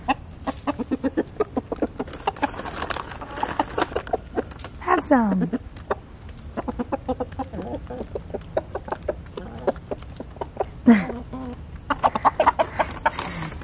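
Backyard chickens and a rooster cluck and squawk around someone handing out mealworm snacks, the calls scattered and fairly close, with someone talking over them throughout.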